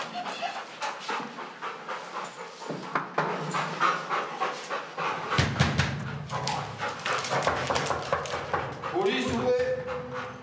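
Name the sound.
police sniffer dog panting while searching an apartment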